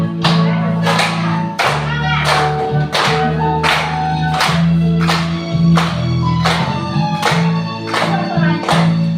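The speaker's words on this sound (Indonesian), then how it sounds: "Tepuk tangannya ya." Children at a classroom lesson clap their hands in a steady, even beat, about thirteen sharp claps spaced evenly, over sustained singing and a droning musical accompaniment.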